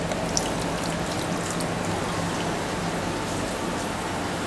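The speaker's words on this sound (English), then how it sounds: "we clean one of the pieces with water" Water runs steadily over a stainless steel mesh filter piece being rinsed clean of ferric chloride in a factory, a constant hissing splash at moderate level with no talk.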